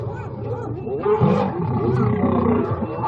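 Lions clash with hyenas at close range, filling the air with deep, continuous roaring and snarling growls that swell louder partway through, mixed with higher yelping cries.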